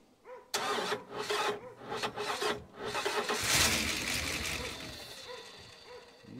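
A 1983 Dodge Ram truck, off the road for over 20 years, cranks with a rhythmic whirring starter that runs for a few seconds and then catches into a rough, rising engine roar that fades slightly, recorded close.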